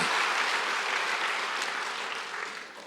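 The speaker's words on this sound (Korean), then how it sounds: "박수 한번 쳐줘요." A church congregation applauding during a revival service at a Korean church anniversary gathering, a full, sustained burst of many hands clapping that slowly tapers.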